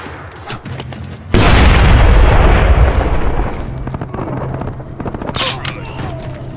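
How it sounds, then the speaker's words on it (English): A grenade explosion in the video game Splinter Cell Blacklist: a sudden loud close boom that decays over a few seconds, followed by scattered bursts of gunfire. "Look out! Grenade!"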